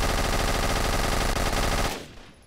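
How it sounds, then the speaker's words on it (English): Rapid automatic gunfire from an enemy in the video game CubeZ, a loud continuous burst of shots that stops abruptly and leaves a fading tail. "he's taking little pot shots at me"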